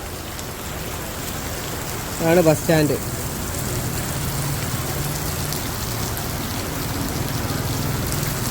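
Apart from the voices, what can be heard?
rain falling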